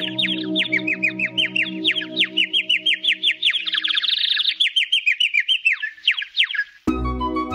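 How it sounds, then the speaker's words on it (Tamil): A snow-white bird in a fairy-tale forest sings a lively, bright song of rapid chirps and whistled trills, loud and close, before a sudden change to another sound at the very end. "பறவை அவர்களுக்காக அழகிய குரலால் பாடல்களை பாடியது."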